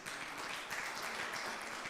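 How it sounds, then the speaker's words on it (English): Audience applause at a men's health weekend event, a steady dense wash of clapping from a crowd that carries on without a break. "another round of applause"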